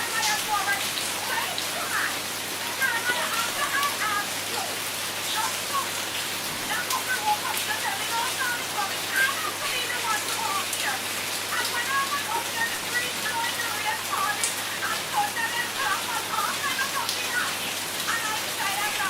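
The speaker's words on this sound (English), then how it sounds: "Look at the rain heavy" Heavy rain pours steadily during a Jamaican hurricane, a dense, constant hiss of drops with no letup, while voices talk faintly underneath.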